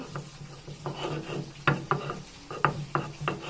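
Mustard seeds are ground into paste on a grinding stone, producing rhythmic rubbing strokes with several sharper scraping knocks, close and moderately loud, without talk.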